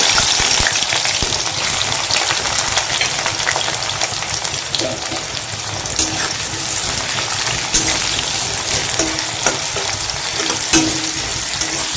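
Chopped onions hit hot oil in a wok and sizzle steadily, a continuous crackling fry with occasional sharper pops, close and fairly loud with no talking.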